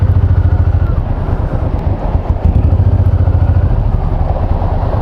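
A Honda VTX1800 cruiser motorcycle idles close by with a deep, lumpy V-twin rumble, steady and loud, with a brief dip and a few clattering thumps midway.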